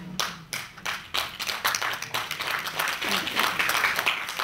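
An audience at a schools conference in London claps, starting with a few scattered claps that build into fuller, continuous applause.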